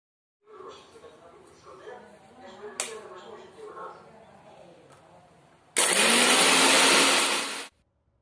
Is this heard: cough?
no